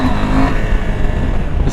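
A 2021 KTM 890 Adventure motorcycle accelerates hard in second gear, its engine droning loud and close under rushing wind noise.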